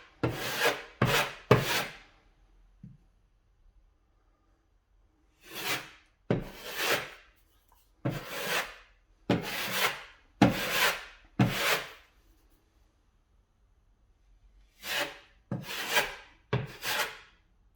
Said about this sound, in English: all you're doing is applying the mixture like this, depending how deep the area is, and then scraping off and reapplying until you're happy with the setting